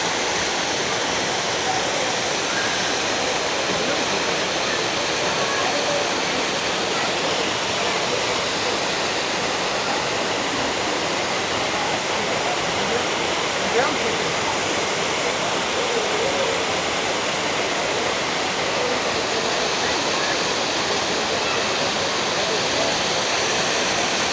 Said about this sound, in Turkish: Önce şelaleyi hızla çekelim.